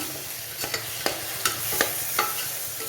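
Ginger garlic paste frying with onions in a pan, a continuous close sizzle punctuated by several sharp spatula scrapes and clinks at irregular intervals as it is stirred, with no voices.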